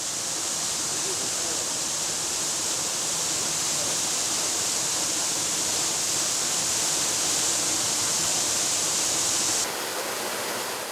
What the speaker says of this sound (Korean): 폭포에서 떨어지는 물소리가 사람의 마음에 따라 9가지 소리로 들리기 때문이라는데요